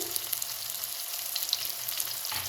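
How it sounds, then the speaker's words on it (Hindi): Peshawari chapli kebab frying in a pan, a steady broadband sizzle of hot oil with small pops throughout, moderately loud and continuous with no voices. "इसी तरह फ्राई होने देंगे एक साइड से"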